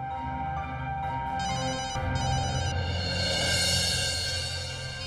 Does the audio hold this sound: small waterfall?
no